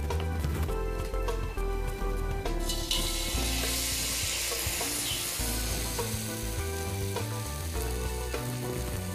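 Batter-coated brinjal slices and onions fry in hot oil with a steady, bright sizzle and occasional stirring, under continuous background music.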